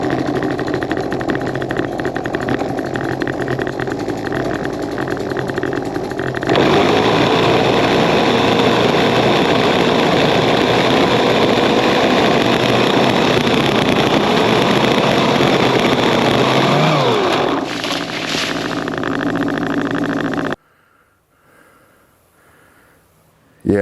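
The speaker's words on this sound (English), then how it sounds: "Yeah, that's my motorcycle." A motorcycle engine runs steadily in a yard, a continuous close motor drone with a revving swell before it cuts off abruptly near the end, leaving near silence.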